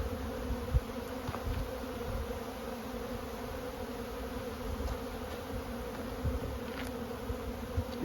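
A continuous buzzing drone of many honey bees flying close by, steady and busy with no voices.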